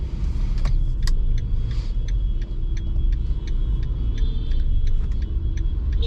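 Inside a manual-transmission car crawling through heavy city traffic, a low engine rumble and road hum run continuously, with faint clicks and rattles from the cabin and no talking.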